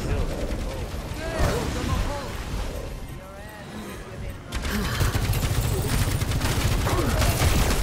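Sustained gunfire from several players shooting in the team shooter Overwatch 2, dense rapid shots throughout that swell louder in the second half, with voices talking over the fighting.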